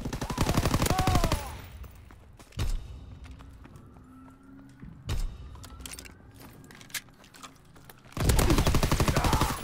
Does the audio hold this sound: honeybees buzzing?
no